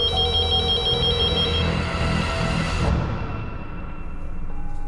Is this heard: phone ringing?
yes